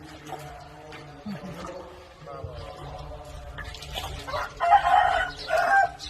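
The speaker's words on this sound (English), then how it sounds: "Lots of chickens again." Chickens cluck close by while a rooster crows loudly, with background chatter and a murmur of voices throughout.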